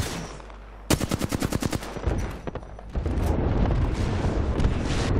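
Rapid gunfire from an Apex Legends match: a burst of evenly spaced automatic shots, then a dense, continuous barrage of loud overlapping fire and impacts, no talk.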